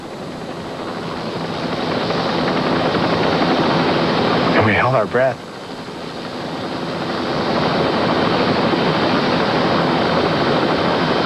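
Rescue helicopter rotor and engine noise, loud and steady throughout, with a person speaking briefly over it.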